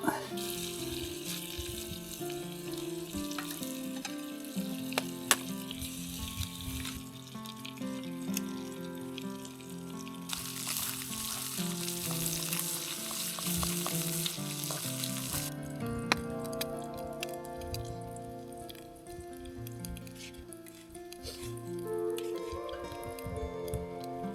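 An egg fries in a pan on a camp stove by a cold Swedish lake in the morning, a steady close crackling sizzle that runs on continuously with small pops throughout.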